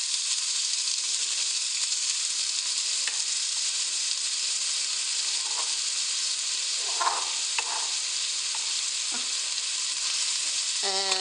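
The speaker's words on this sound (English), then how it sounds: "we're going to add our chopped onion into a good and hot pot." Chopped onion sizzles in a hot pot for an Italian meat sauce: a steady, even frying hiss continues throughout at moderate level, with a few faint clinks in the background.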